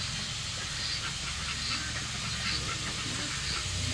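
Pekin duck breeders at swimming time in a pool, with scattered quacks over a steady hissing, rushing background noise and no talk.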